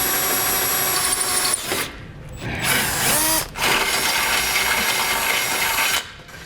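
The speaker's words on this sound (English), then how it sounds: "let's use our 1/2" drill bit again and enlarge this hole" A power drill with a 1/2-inch bit whirs loudly and steadily as it enlarges a hole while a vehicle base plate is installed, briefly pausing and restarting, with a grinding edge and no voices.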